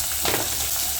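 Broad beans and green beans frying together in a pan, a steady close sizzle running alone through the short moment with faint stirring.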